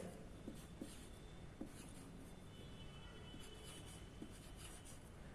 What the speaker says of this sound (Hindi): यहां पे हम लिखेंगे मात्रा